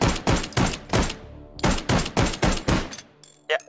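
Ten rapid gunshots from a WW2-era weapon ring out loud and close, fired in quick bursts with brief pauses between groups, followed by a sharp metallic clack at the end.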